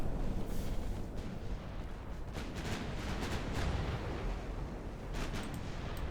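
A battleship's ammunition detonates in the naval warfare game Ultimate Admiral Dreadnoughts, a dense continuous roar of booming blasts with sharper bursts cracking through now and then.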